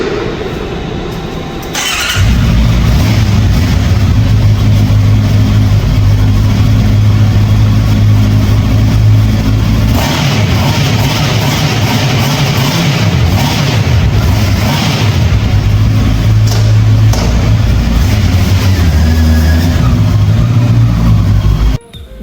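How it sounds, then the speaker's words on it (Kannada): A Honda CBR650R fires up and settles into a steady, loud idle with a deep exhaust drone, held close and unbroken for about twenty seconds before cutting off. "ಬೈಕ್ ಆನ್ ಮಾಡಿ ಸ್ವಲ್ಪ ಹೊತ್ತು ಎಕ್ಸಾಸ್ಟ್ ಸೌಂಡ್ ಕೇಳ್ತೀನಿ"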